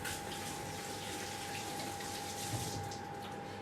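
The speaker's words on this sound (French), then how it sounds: "Je me rince les mains." Hands rinsed under a running kitchen tap, a steady continuous stream of water splashing at close range, faint and unbroken, with no talking.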